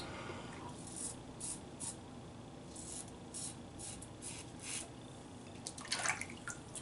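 Straight razor or safety razor strokes scraping through wet shaving lather on a first pass with the grain, a series of short raspy swipes with small wet drips, close and fairly quiet.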